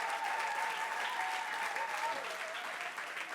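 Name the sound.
audience applauding the pastor's secretary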